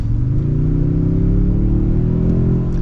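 Turbo hybrid engine of a 2025 Toyota Sequoia Platinum pulling hard under acceleration, a steady loud mid-low drone with rising harmonic tones, heard from inside the cabin with no talking.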